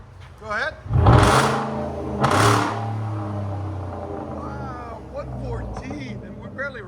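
A V8 car engine is revved in two sharp bursts close by, each rising and falling quickly, with people talking and exclaiming over the idling rumble in between.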